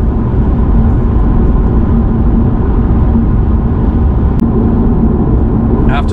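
Alfa Romeo Giulia Veloce driving at speed, a loud, steady cabin drone of engine and road noise that holds evenly without breaks.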